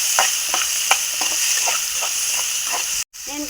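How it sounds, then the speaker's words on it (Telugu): Coconut pieces and green chilies frying in a pan, a steady loud sizzle with spatula scrapes and stirring clicks, close up, cut by a brief dropout near the end. "కొబ్బరి ముక్కలు వేసుకున్నాం కదా, కొబ్బరి కూడా కొంచెం దూరగా వేగాలండి."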